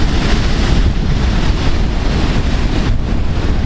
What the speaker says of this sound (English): I'd say I'm about 100 feet from where them waves are crashing in.